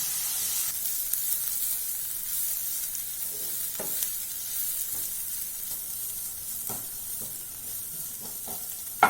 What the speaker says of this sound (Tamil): வெங்காயம் ப்ரௌனிஷாக ஆகிற வரைக்கும் மூணு நிமிஷம் நாலு நிமிஷம் வதக்கணும்